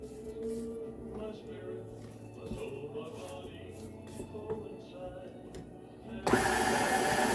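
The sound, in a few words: electric mixer mixing cake batter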